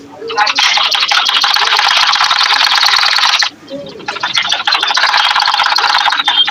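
Sewing machine stitching a frock along a marked line, a loud close buzzing run that stops briefly and then resumes, with a few soft handling sounds in the pause.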